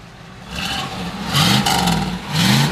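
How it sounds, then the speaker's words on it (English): A 1968 Chevrolet Camaro engine with a single exhaust runs steadily nearby, rising in pitch twice as it revs, with a fairly mellow, subdued exhaust note. "It's got single exhaust, so it's a little quiet."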